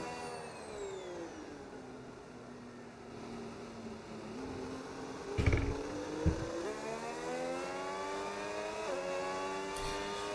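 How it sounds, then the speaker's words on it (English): Onboard engine of a Red Bull Formula 1 car in a racing video game, a high, steady whine rising and falling through gear changes, with a couple of brief thumps midway. "Red Bull engines sound great this season too on the onboard."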